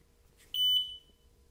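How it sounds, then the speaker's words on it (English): A single short, high electronic beep from an xTool S1 laser cutter sounds clearly against a quiet background. "Once you hear the beep, press the button on the front of the S1."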